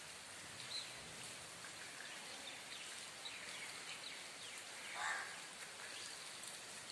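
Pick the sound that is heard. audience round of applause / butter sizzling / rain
rain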